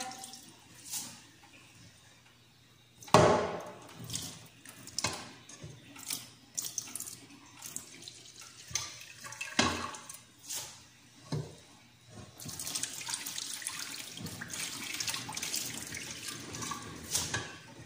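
Water from a tap runs into a sink during washing, with irregular splashes, drips and handling at first, then a steadier stream of running water near the end.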